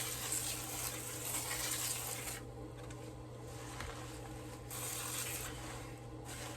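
Water poured from a canister of sugar and molasses water onto cardboard bedding in a red wiggler worm bin gives a steady, faint splashing and trickling stream, then eases off partway through.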